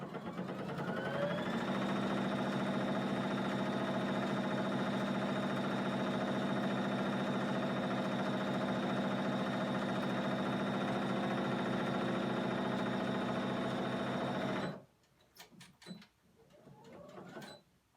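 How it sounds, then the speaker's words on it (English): A sewing machine runs steadily, stitching a toddler-size pillowcase seam with a dense, even whir and rapid needle rhythm for about fifteen seconds, then stops, leaving a few soft clicks and fabric handling sounds. "finish our seam"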